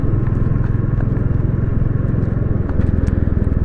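A Royal Enfield Classic 350 rides along a ghat road, its single-cylinder engine thumping in a fast, loud, close rhythm against steady wind rush.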